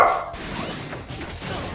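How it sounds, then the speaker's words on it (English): A dog barks and yaps excitedly indoors in a brief, loud burst, layered over the game sounds of an ARMS ranked match. "the dog is going nuts."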